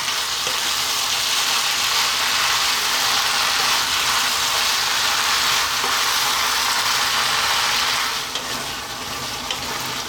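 Spinach and potatoes being stirred in a hot pan give off a steady, loud hiss of frying that runs unbroken for about ten seconds and softens slightly near the end, with no voices.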